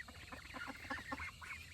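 White ducks quack and honk in a busy, overlapping flock, repeated calls coming close together at moderate loudness with no talk over them.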